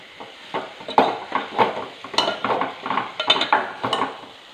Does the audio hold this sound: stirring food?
yes